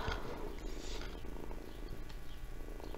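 Close-up purring from a house cat lying next to the microphone, a continuous soft low rumble without pauses, fairly quiet overall.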